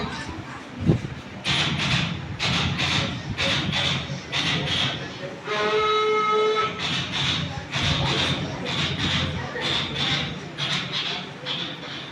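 A voice imitates a speeding train with fast rhythmic chugging bursts and a short whistle-like hoot in the middle.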